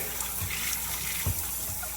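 Tap water running steadily at bath time as something is rinsed off, a soft continuous splashing stream with a couple of brief low thumps.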